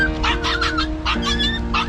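A small stray puppy whimpers and yips in short, high-pitched bursts, close by, over a steady low background drone, beside train tracks.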